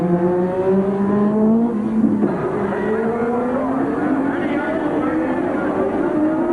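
A 1983 Formula One Ferrari races on the Detroit street circuit, its high engine note sweeping and shifting pitch over steady crowd and track noise, with commentary running underneath.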